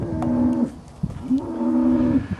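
A cow on a cattle breeding farm gives two loud, drawn-out moos close by, each a sustained nasal bellow with a short pause between.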